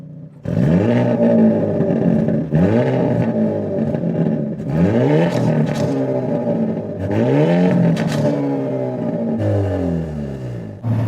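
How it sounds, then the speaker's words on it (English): A 2022 Hyundai Elantra N engine revs repeatedly in loud rising sweeps, each lift-off followed by exhaust pops and burbles, with several bursts of acceleration close by and no voices. "And the pops and the burbles on liftoff."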